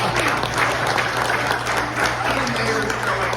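Guests at a New Delhi restaurant's 33rd anniversary event give a round of applause for the mayor, a loud, dense crowd clapping that holds steady throughout, with a low hum running underneath.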